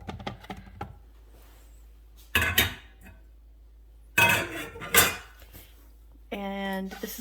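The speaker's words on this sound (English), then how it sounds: "I'm gonna put them in the container." Pork chops being placed into a microwavable plastic container, with a few sharp clattering and clinking knocks at irregular intervals, close and moderately loud, amid quiet pauses and a brief hum at the end.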